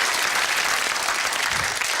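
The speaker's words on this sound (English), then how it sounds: "Yes, give them a round of applause." Studio audience applauding on the UK game show Whittle, dense steady clapping at full level from start to finish with no voices over it.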